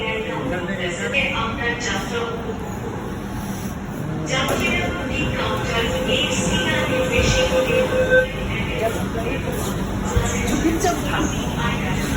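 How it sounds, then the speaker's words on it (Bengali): Busy Howrah metro station ambience in Kolkata with a train's low rumble and rolling mechanical noise, crowd chatter throughout, and occasional electronic tones overhead. "এটা হচ্ছে কি হাওড়া মেট্রো স্টেশন।"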